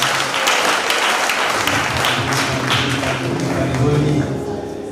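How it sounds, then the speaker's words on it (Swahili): A church congregation at a pastor's homecoming ceremony at Deliverance Church Nyansiongo applauds as a family walks in, with loud, dense, sustained clapping filling the room and some voices mixed in. "Wapige makofi wanapoingia."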